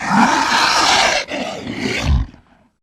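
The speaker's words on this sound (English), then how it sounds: "The program just gives you a different section of the same stock lizard sound from before." A stock lizard roar sound effect used for a Komodo dragon: a loud, rasping roar, then a short break and a second roar that trails off into silence.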